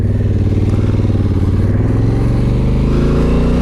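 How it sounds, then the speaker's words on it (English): A 2021 Honda Africa Twin motorcycle engine runs loud and close, a steady throbbing idle with a pulsing rhythmic beat that holds even throughout, with no talk over it. "So I got this motorcycle. This is a 2021 Africa Twin."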